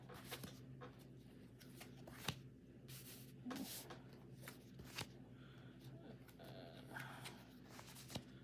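Tarot cards being shuffled by hand, soft quick riffles and slaps in irregular bursts, faint and close, with low background hum.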